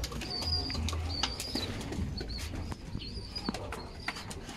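Pet pigeons coo softly and repeatedly in a home loft, with occasional wing flaps and bird calls over a steady low background hum.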